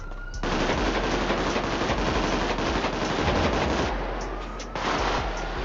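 Sustained automatic gunfire in the video game GTA V roleplay, a dense, loud, continuous rattle of rapid shots that barely pauses across the whole stretch, with no talk over it.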